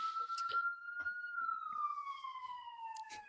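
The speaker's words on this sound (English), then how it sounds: "Some sirens going off here in Brooklyn." An emergency siren wails on a street in Brooklyn as a single long tone that slowly rises and then falls, with faint background sounds around it.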